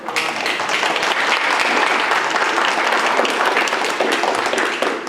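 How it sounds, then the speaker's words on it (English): Audience applause at a Texas beer history celebration event, a dense, steady wash of clapping from a crowd that holds loud and even for several seconds. "let's give a hand of applause."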